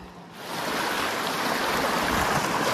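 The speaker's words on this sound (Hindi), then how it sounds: "पानी बहुत ज़्यादा करंट हो गया" A river runs with a strong current at a crossing point, a dense, continuous rush of flowing water that starts a little quieter and quickly rises to a steady, full roar.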